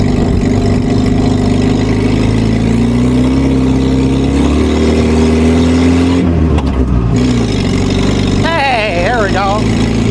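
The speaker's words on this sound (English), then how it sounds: "Try to get her in here, second gear here." A WWII Jeep engine runs steadily in second gear, a loud, continuous low mechanical drone with slight rises in pitch as it pulls, with a brief clunk partway through and a short whining tone near the end.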